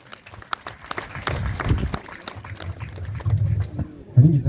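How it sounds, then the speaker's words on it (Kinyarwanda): A wedding gathering applauds an old man, with scattered clapping swelling into a steady round of applause at moderate distance, mixed with some voices. "Amashyi menshi ku musaza rwose"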